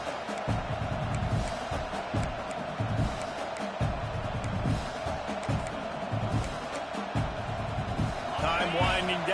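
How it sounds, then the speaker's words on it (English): A home crowd at a football game roars and cheers in a continuous, distant wash of noise, with a commentator talking over it throughout. "Man, this crowd really affecting the football game"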